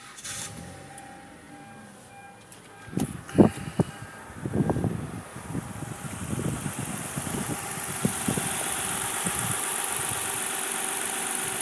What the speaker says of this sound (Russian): Мотор пускается с полпени.